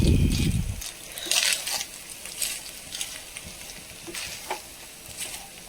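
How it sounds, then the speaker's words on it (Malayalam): Rice, prawn masala and curry leaves are stirred together in a frying pan. A brief loud sizzle at the start gives way to softer frying with repeated scraping stirs of a spoon. "കുറച്ച് വേപ്പലയും കൂടി ഇട്ടിട്ട് നന്നായി ഇളക്കി കൊടുക്കാം"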